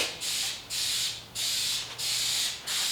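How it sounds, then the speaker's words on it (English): Spray paint hissing in repeated bursts onto a bike, each spray lasting about half a second with short gaps, close and steady, with a faint low hum underneath. "Luke's over here spray painting his bike"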